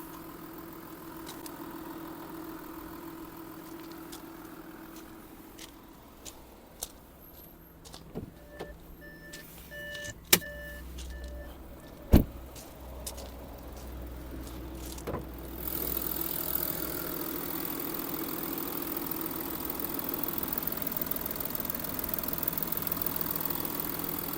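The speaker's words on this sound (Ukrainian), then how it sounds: "Гляньте, як працює двигун." A 2014 Audi A6 quattro engine idles steadily with a low, even hum, joined by a few sharp clicks and knocks midway before a brighter, louder hiss rises near the end.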